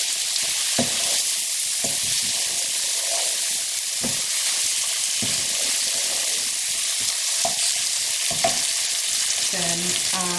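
Tomatoes sizzle and fry in a pan for a Bangladeshi king prawn bhuna curry, with a steady broadband hiss and spoon scrapes and knocks recurring every second or so as the mixture is stirred, close and fairly loud.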